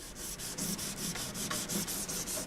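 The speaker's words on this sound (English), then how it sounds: "taking the 100 grit sandpaper and carefully sanding all along the edge of the masking tape" Quick rhythmic scratching of 100-grit sandpaper rubbed back and forth in short strokes along masking tape on a composite canoe, close and fairly quiet, with no voices.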